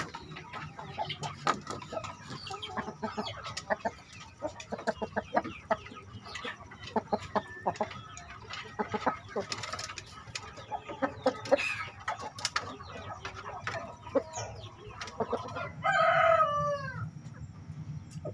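Village hens cluck steadily in a busy backyard breeding flock while a rooster crows near the end, a loud rising call cutting through the chatter.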